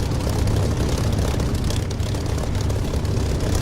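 Aircraft engine roaring during takeoff in the DCS flight simulator, a loud, continuous broadband drone with a heavy low rumble and steady propeller buzz, no voices.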